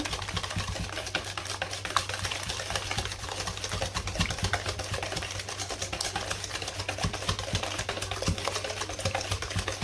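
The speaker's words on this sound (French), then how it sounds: "On continue à mélanger." Cake batter being mixed with two sachets of vanilla sugar for an easy snowball cake, a steady mechanical whirring churn running continuously from start to finish with no speech.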